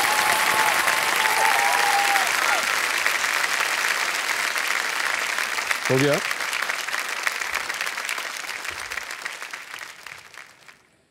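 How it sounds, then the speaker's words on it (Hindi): A studio audience on a quiz show set applauds steadily, a dense, continuous wash of clapping that carries on throughout and slowly tapers off at the end, with brief speech heard over it. "और ताली बजाई जाती है उनके लिए।"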